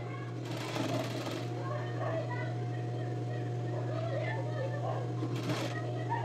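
A sewing machine runs in a steady, continuous whir while stitching a French seam 1 cm in from the edge of a men's shirt sleeve, with a constant low hum under everything.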